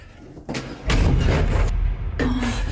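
A door slams shut inside a house with a loud, sudden thud, followed by a sustained rumbling crash, then a short quieter knock near the end; no one speaks.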